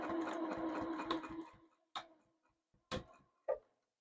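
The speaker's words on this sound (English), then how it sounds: "now I'm going to stitch forward and back a couple of times just to secure that corner really well" A sewing machine stitching forward and back on a quilt binding corner, a quick steady whir for about a second and a half, then a few separate clicks and thumps as it stops, close and clear.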